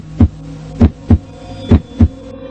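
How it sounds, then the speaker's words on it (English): Five heavy heartbeat thumps arrive in an irregular rhythm, each low and booming, over a steady low hum in a basement holding large oxygen tanks. "A heartbeat sound was coming from inside."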